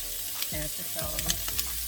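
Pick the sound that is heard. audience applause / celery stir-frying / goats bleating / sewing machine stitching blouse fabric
celery stir-frying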